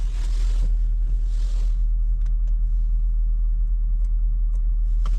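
A Honda Shuttle car engine warms up on fresh oil after a clutch repair, idling with a steady low rumble, close and loud, with a few light clicks and rustles near the start.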